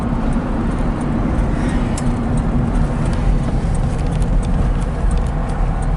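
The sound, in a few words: 1965 Porsche 356C car driving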